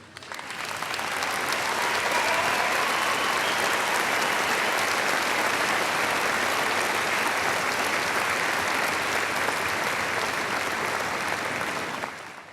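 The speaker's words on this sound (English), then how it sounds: "Mrs. Price, will you come forward so that the senior class can give you a round of applause?" A graduation audience breaks into sustained applause, rising quickly and holding as a dense, even wash of clapping for about twelve seconds before tapering off.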